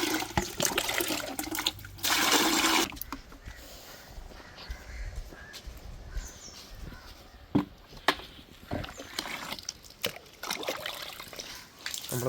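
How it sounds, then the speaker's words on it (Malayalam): Clean water is poured over a motorbike to rinse off shampoo, a splashing gush then uneven trickles and drips running off the bike outdoors, with a few sharp knocks. "ഇനി നല്ല വെള്ളം ഒഴിച്ച് കഴുകിയാൽ മതി ഗൈസ്."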